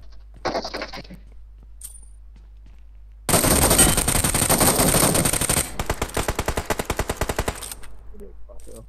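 A brief voice, then loud sustained automatic gunfire bursts from PUBG Mobile on the Erangel map, rapid and continuous, ending in a run of evenly spaced shots.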